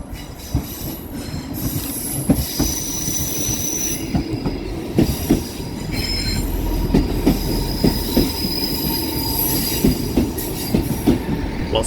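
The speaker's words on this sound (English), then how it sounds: "158770 and 158857 arrive at the same time" Two diesel multiple-unit trains arriving together at Manchester Piccadilly station at rush hour, rolling in with steady rumble, rhythmic wheel clicks and high squeals from the wheels, moderately close, with no talking.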